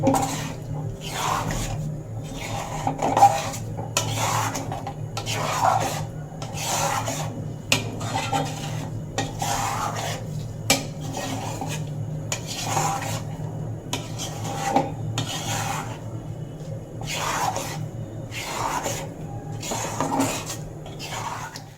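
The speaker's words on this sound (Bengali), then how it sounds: "মিশ্রণটা ভালোভাবে ফুটিয়ে নেব অনব্রত এইভাবে নাড়াচাড়া করতে হবে নাহলে পড়াতে লেগে যাবে" A kamalpuli mixture bubbles in a pan while a utensil stirs it continuously, giving repeated rhythmic scraping strokes roughly every second against a low simmering hum, no voices.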